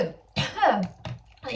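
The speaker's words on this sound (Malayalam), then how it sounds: "അയ്യോ വൃത്തിയായിട്ട ചുമ." A few short, sharp coughs come in quick bursts, close and fairly quiet, with small gaps between them.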